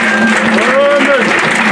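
A church congregation applauds, with dense, continuous clapping and raised voices ringing over it throughout.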